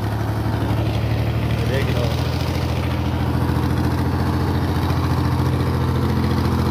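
A tractor engine, whose engine took in water, idles with a steady low rumbling throb throughout, loud and close, while someone speaks over it.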